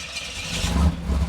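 An IROC-Z car engine runs rough and uneven under a light throttle, close and loud, bogging and surging as it stumbles toward stalling.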